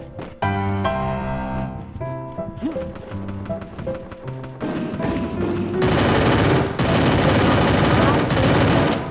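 Gunfire in a shooter video game, including shotgun blasts, comes in rapid bursts and single loud shots over game music, growing into dense sustained fire toward the end.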